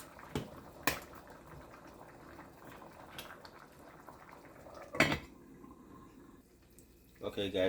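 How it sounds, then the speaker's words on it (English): A pot of Jamaican seasoned rice with ackee and callaloo gets stirred, with a few sharp spoon knocks against the pot over a soft simmer, and a voice talks toward the end. "Okay guys, I give it a stir."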